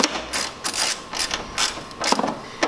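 A ratchet wrench snugging the headlight mounting bolts on a 10th-generation Honda Civic during an LED headlight install: several bursts of close, rapid clicking with short pauses between strokes.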